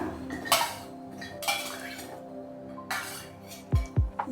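Cut amla (Indian gooseberry) pieces dropped into a jar, giving several scattered clinks and knocks, with two sharper, closer taps near the end.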